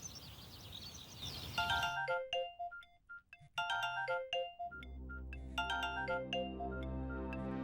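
A phone's melodic electronic ringtone plays several repeating rising phrases, close and clear, left unanswered in a dramatized crime show, before a low music bed swells underneath.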